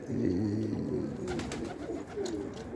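Pigeons coo at a loft, a few low throaty rolling calls close by in the first second, then softer cooing and faint chirps over background noise.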